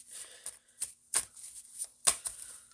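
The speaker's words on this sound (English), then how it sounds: "These are hard to shuffle." A deck of stiff, hard-to-shuffle cards being shuffled by hand, in several short riffling bursts with brief pauses between them, close and fairly crisp.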